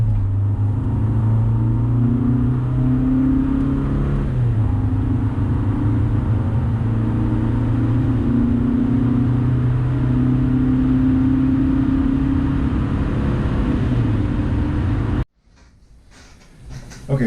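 A 2000 Honda Civic with a resonator added to its exhaust accelerates hard, its engine droning loud and rising in pitch through the gears before cutting off abruptly near the end.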